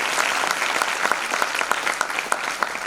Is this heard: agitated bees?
no